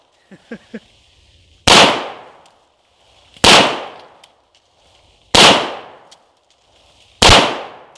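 A firearm fires four loud, sharp gunshots at a pumpkin outdoors, spaced roughly two seconds apart, each with a ringing decay. A few small soft knocks come before the first shot.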